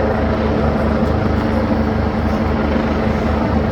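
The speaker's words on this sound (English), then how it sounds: "That helicopter is really low." A helicopter flies low overhead, its rotor producing a loud, continuous throbbing roar that fills the whole stretch without letting up.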